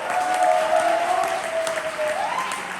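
Audience applause at a poetry slam, a steady wash of clapping for a poet that holds evenly for a few seconds, with a host's voice faintly over it.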